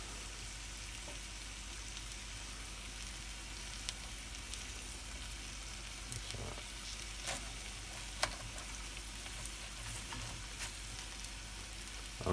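Chorizo and kale hash with eggs sizzles steadily in a pan, a constant close frying hiss with occasional small pops and clicks, no voices.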